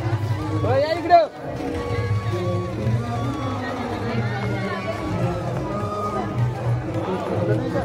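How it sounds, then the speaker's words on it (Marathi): A dense crowd gathers at the Ganga Aarti on the riverbank in Rishikesh, a constant, close babble of many voices with people talking nearby and occasional louder calls rising above the hubbub. "फुल गर्दी आहे."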